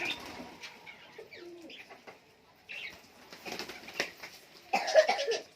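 Several giribaz high-flyer pigeons coo softly nearby in a loft, with bursts of wing flapping and scattered calls that grow busier toward the end.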